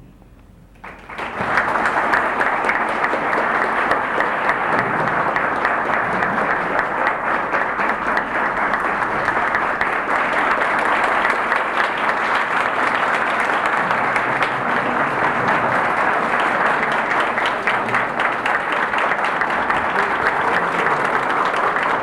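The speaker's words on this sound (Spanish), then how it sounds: "Los aplausos son para doña Carmen Trujillo de Bosch, esposa del profesor Juan Bosch" An audience applauds steadily at a continuous public reading of Juan Bosch's stories, honoring Carmen Trujillo de Bosch, with a dense, even wash of clapping rising sharply and sustained for over twenty seconds.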